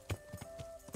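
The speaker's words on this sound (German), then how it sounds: "Da hinten ist ein Pferd." Horse hooves clip-clop in Kingdom Come: Deliverance, four or five distinct close strikes in an uneven gait over a steady tonal game hum.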